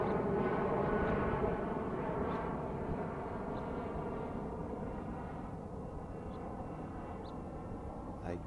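A Southwest Boeing 737 jet going around at Oakland roars overhead in a broad, steady rumble that slowly fades as it climbs away, heard from a distance with no talking.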